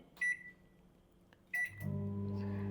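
A microwave oven is started: two short button beeps, then the steady low hum of it running begins and continues, close and fairly quiet, no speech.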